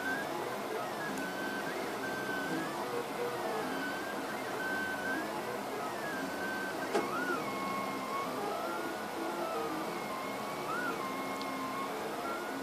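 A RepRap 3D printer laying down a part's infill, its stepper motors whining in shifting pitches with steady mechanical hum, close and continuous without talk.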